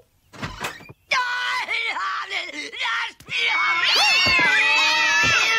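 Several cats meow and caterwaul in overlapping, drawn-out wails, loud and close, with rising and falling cries that grow more insistent and layered toward the end.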